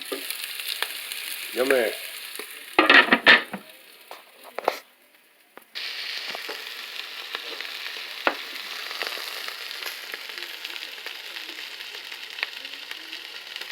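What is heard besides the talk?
kielbasa with carrots and onion cooking in pan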